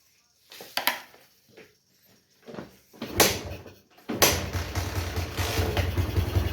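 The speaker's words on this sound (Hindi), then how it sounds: "फिर से बाइक को स्टार्ट करते हैं।" An old Bajaj Discover motorcycle being restarted after its RPM screw is adjusted: a few knocks and brief cranking bursts, then the engine catches and settles into a steady, fairly loud idle.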